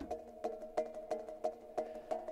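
A metallic, ringing tone struck repeatedly in a steady pattern, about seven even hits with sustained shimmering overtones between strikes, no voices.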